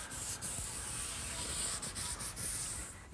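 Mahogany being hand-sanded with 220 grit sandpaper for a standing mirror, a soft close rasping rub in short repeated strokes, quiet and alone.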